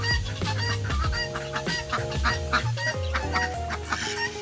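A group of ducks on a farm quack and honk repeatedly in quick, overlapping calls, close by and fairly loud, with no talking.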